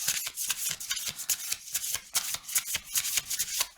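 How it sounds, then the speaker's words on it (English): Rapid, crisp riffling of a deck of tarot cards being shuffled, loud and close, with repeated bursts in a steady rhythm and no talking. "These cards are really loud."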